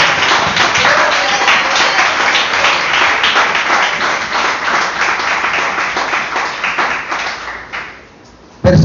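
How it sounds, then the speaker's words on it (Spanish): A church congregation gives loud, sustained applause that fills the room for several seconds, then fades toward the end before a sudden burst of sound returns. "por el cual pido un tremendo aplauso"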